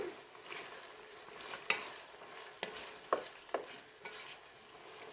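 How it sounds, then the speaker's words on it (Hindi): Chicken for a wedding-style palak chicken being stirred in a frying pan, a soft sizzle running throughout while a utensil scrapes and taps in several sharp, irregular strokes, close by and fairly quiet. "अब मैं इसको अच्छी तरह मिक्स करती हूँ"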